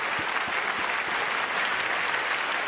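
Applause from an awards show audience in a large hall, a steady roar of many hands with a few sharper individual claps standing out early, heard at a moderate distance without talk.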